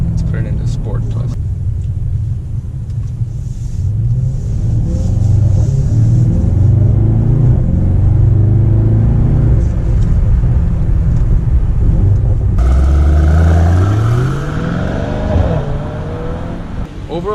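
A 2018 Mercedes-AMG E63S sedan's engine in Sport Plus mode drones loudly and up close, its pitch climbing under load before an abrupt shift and a fresh rising sweep near the end.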